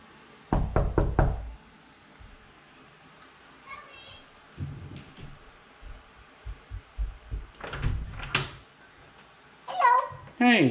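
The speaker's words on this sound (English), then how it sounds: "Main office, please knock." Knuckles rap on the main office door in a quick burst of several loud knocks, then a second series of knocks follows later, with muffled voices and movement heard between them.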